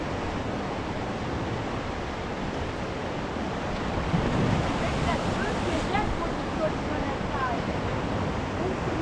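Sea waves crashing and splashing against coastal rocks along the Irish coast, a steady broad roar with wind noise, swelling slightly midway, heard at a moderate distance.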